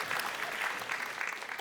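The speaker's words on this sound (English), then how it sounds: "Round of applause for Aaron" An audience applauds during an evening talk, a brief burst of steady clapping from many hands.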